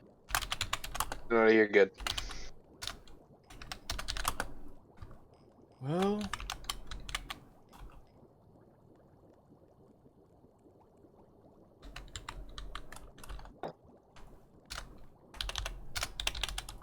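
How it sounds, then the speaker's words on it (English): Bursts of computer keyboard typing come in short clusters, with long quiet stretches between them, close and fairly clear. A person speaks briefly over some of the keystrokes. "I'm just typing a note to myself."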